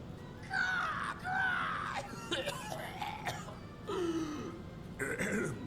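A character in the video game YIIK: A Postmodern RPG coughs and clears their throat in a run of short, harsh bursts, with brief gaps between them.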